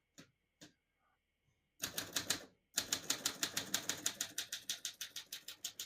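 A 1945 Corona Standard portable typewriter clacks as keys are struck, a few isolated taps followed by a fast, even run of sharp mechanical strikes close up.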